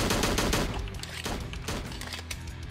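Gunfire in the game Slendytubbies 3, a loud dense volley of overlapping shots with a few sharper cracks standing out, close and continuous with no talking.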